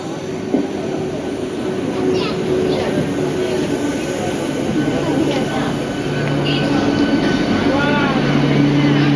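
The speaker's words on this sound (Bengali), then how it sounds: "স্টেশন ট্রেন ঢুকছে" A train rumbles into a station close by, steady and loud, with a brief metallic whine near the end and voices in the background.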